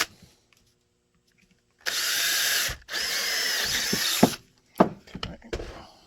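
A power drill bores retention holes for a rubber thumb snap on an RTI plate taco, running in two loud bursts separated by a brief pause, followed by a few short clicks and handling knocks.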